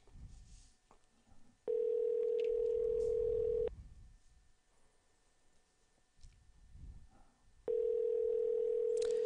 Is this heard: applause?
no